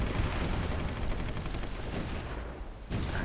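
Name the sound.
artillery and gunfire in Supreme Ruler Ultimate video game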